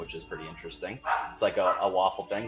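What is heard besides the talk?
dogs barking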